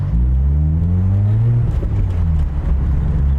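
A 13B rotary-swapped Mazda RX-3 with over 500 hp cruises on a freeway, its engine a loud, steady drone with rising and falling pitch as the clutch eases off, heard from inside the car with no talking.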